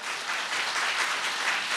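An audience at a civic launch ceremony applauds, a dense, even wash of many hands clapping at moderate distance for the whole short stretch, with no voices over it.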